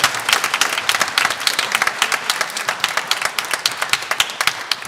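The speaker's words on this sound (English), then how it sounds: "We have another round of applause for Adriano on piano." An audience at a high school band spring concert applauds a pianist, dense steady clapping from many hands filling the room at an even, sustained level with no voices over it.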